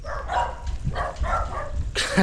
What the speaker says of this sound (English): Costa Rica dogs, man. I can't walk anywhere with my dog without this happening.